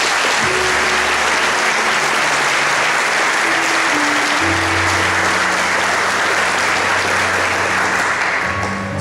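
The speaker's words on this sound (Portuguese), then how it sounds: "Vamos aplaudir o Senhor." A congregation in a church applauds loudly and continuously, a thick roar of clapping that holds steady for the whole stretch while low sustained instrument tones hum beneath it.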